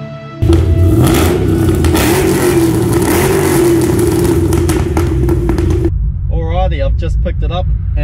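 A car with a fully forged, basically brand-new LS3 V8 engine drives with a loud, steady engine drone inside the cabin, then cuts to quieter ambience as a person starts talking.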